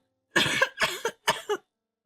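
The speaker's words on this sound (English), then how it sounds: "causing dust to fly, and I end up coughing" Three short bursts of coughing, close and clear, each a quick double hack, followed by silence.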